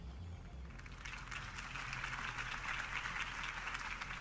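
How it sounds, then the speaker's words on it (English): Crowd applause after a campaign speech in a video game, a soft clatter of clapping that swells after the first second and holds steady, heard fairly faint and at a distance. "If only Mr. Wayne, my campaign's largest backer, could have heard that applause"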